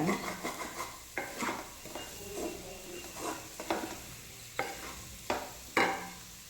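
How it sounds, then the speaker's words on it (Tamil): Cauliflower being stirred and sautéed in ghee in a pan, with a soft sizzle and repeated spoon scrapes against the pan coming in short bursts about every second, close and fairly quiet. "அந்த நெய்லேயே வதக்குறதுனால"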